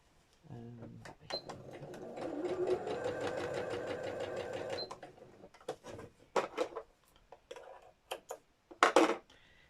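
A sewing machine stitches quilt pieces in one rapid, even run of needle strokes lasting a few seconds, followed by sharp clicks and taps of handling the fabric, close by.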